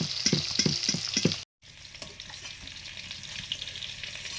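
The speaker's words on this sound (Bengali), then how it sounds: "ডিমগুলো ভাজা হয়ে গেছে, হালকা করে ভেজেছি" Steady sizzling of eggs frying in hot oil, with a few clinks of a utensil early on, a brief cut, then the crackle continues.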